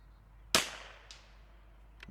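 A .22LR rifle firing Eley ammunition: one sharp, crisp report followed by faint distant ticks, recorded at a quiet outdoor range.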